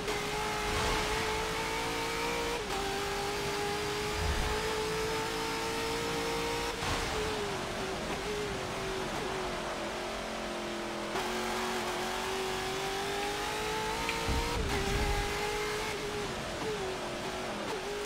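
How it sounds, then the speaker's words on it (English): A struggling, unhealthy-sounding car engine in a racing video game revs continuously and loudly, its pitch climbing and dropping through repeated gear changes over a steady roar, with no voices. "Car doesn't sound too healthy."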